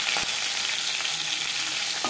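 Aar fish frying in hot oil gives a steady, dense sizzle that stays close and even throughout, with no talking.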